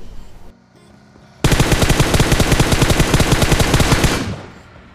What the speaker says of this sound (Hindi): वहाँ से बेरिल की आवाज़ कंटिन्यूसली मुझे सुनाई दे रही थी